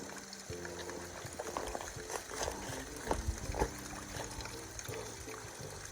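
A small waterfall spills over rocks along a hiking trail, a steady trickling, splashing flow close by with a few brief louder gurgles, heard alone without talk.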